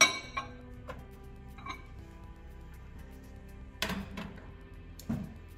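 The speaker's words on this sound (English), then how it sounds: "I like to use the back of a teaspoon to do my stirring." The back of a teaspoon stirs colored powder into cocoa butter in a small dish, giving faint, sparse clinks and taps: a few light ones early, then two sharper knocks near the end, over quiet background.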